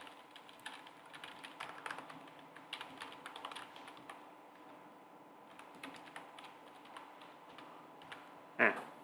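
Soft, close clatter of fingers typing on a computer keyboard, irregular keystrokes continuing throughout, with one louder key press near the end.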